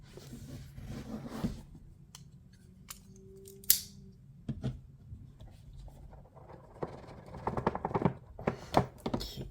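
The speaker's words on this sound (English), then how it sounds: "So let's unbox this thing." Rustling, tearing and crinkling of packaging while a Microsoft Surface keyboard is unboxed, with scattered taps and a short ripping swish, close and fairly quiet.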